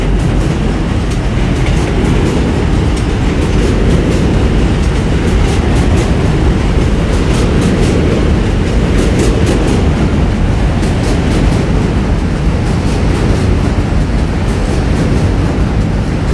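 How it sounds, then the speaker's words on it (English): A Q subway train passes close by in New York with a loud, continuous roar and a steady rhythmic clickety-clack of wheels over rail joints, which fills the whole stretch without a pause. "Oh, there's the Q train."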